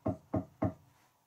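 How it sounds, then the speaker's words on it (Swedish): Three dull knocks on a wall in an old country store, evenly spaced and fairly faint, followed by near silence. "Jag knackar igen."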